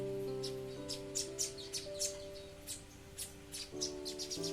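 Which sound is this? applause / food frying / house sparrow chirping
house sparrow chirping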